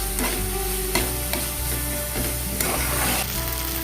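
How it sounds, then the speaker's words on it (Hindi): Spices and tomatoes stirred and cooked in a pan for restaurant-style bhindi do pyaza, making a steady close sizzle broken by a few louder scraping stir strokes, with no talking. "अभी सारे मसाले को मैं अच्छे से मिला लूंगी। उसको तब तक पकाऊंगी जब तक टमाटर अच्छे से गल ना जाए।"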